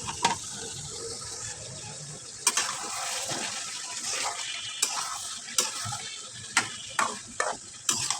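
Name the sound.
vegetables being sautéed in a pan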